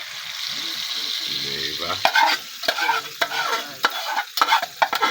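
An egg goes into a hot pan for a breakfast of fried rice and dried fish, a soft sizzle followed by clattering scrapes and stirring knocks at close range, with a brief spoken word partway through.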